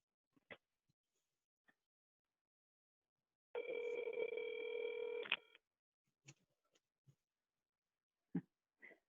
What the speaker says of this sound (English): I'm going to call her again and ask her if she just wants me to keep her on the phone